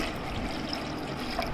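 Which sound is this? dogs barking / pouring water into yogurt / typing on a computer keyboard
pouring water into yogurt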